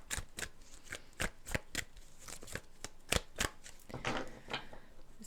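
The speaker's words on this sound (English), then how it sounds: "Let's give these cards a good shuffle" Tarot cards being shuffled by hand: a run of crisp, rapid riffling bursts and soft slaps, close and fairly quiet, with no talking.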